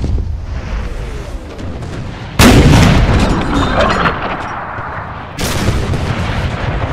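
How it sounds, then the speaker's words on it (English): Union artillery fire in an American Civil War battle game mod, two loud cannon booms several seconds apart, each with a long rumbling tail over ongoing battlefield noise. "this Union artillery position is rather daunting, what they're firing off here against"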